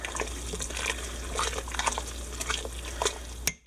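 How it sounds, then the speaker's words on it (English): Spinach stirred into soup in an Instant Pot, giving close, continuous wet sloshing and liquid swirling over a low steady hum, with soft splashes and a clunk at the end. "we're going to stir that spinach in there to let it get wilted"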